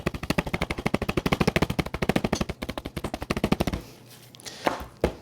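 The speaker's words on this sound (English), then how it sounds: "So after you hammer it, it should bring the thickness down as well" A meat hammer pounds a pork chop in a rapid run of about three dozen sharp, evenly spaced thuds close by, then stops, followed by a couple of scattered knocks.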